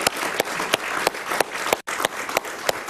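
A TV studio audience claps in steady applause, a dense wash of many hands with a few sharper claps standing out, moderately loud and continuous apart from one very brief break.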